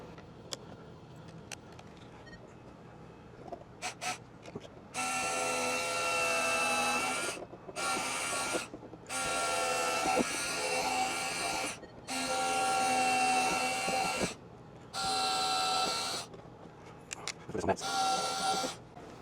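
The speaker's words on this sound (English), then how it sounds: "I think I'm going to see if I can pre-drill" A power drill whirs in several bursts of a few seconds each, pre-drilling wood to mount a bracket during an RV repair, with pauses between them and quiet sounds of handling around it.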